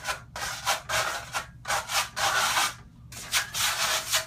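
A trowel spreads and drags a thick coat of Venetian marmorino plaster, grassello fino, across a wall in repeated rasping, scraping strokes separated by short pauses, close and moderately quiet.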